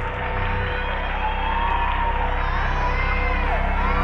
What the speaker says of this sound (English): the sounds of audience applause mix with the horrifying cries of children